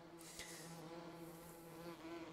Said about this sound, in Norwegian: her er det bier.